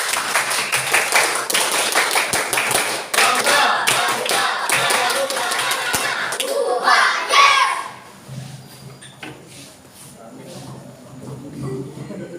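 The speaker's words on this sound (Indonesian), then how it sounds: "Dua kali tepuk pramuka." Rhythmic group clapping from a Pramuka scout troop at an induction ceremony, quick bursts of claps in two rounds filling the first eight seconds, followed by quieter crowd murmur and scattered voices.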